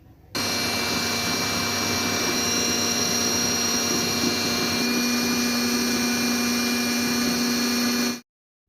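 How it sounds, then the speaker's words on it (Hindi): An electric chopper machine grinding soaked chana dal into a paste for halwa: a loud, steady high-pitched motor whir that starts abruptly, holds for about eight seconds with a slight pitch change midway, then cuts off. "और ये मैं अब चॉपर मशीन में डाल चुकी हूँ और इसे अच्छी तरह से पीस लेंगे।"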